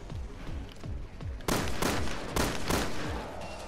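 Gunfire in Resident Evil Revelations 2 Raid Mode while shooting enemies: a rhythmic run of booming shots, then several louder, sharper blasts in quick succession, close and forceful over game noise.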